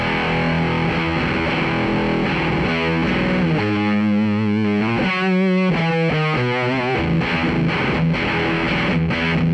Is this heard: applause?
no